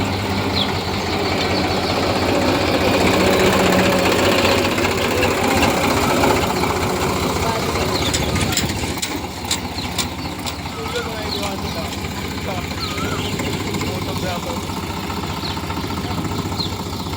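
A tractor engine idles with a steady low, droning hum that runs the whole way, its tone shifting partway through, while people talk over it.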